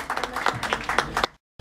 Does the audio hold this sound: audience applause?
yes